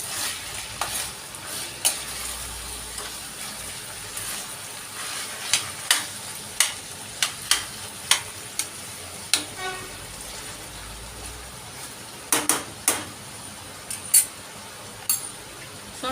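A steady sizzle of diced tomatoes frying in a pan, with a utensil stirring and clinking against it in irregular scrapes and taps, no talking.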